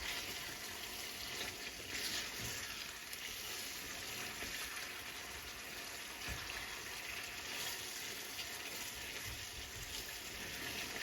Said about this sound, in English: I'm just going to add some water in here because I want to have a more sauce on the curry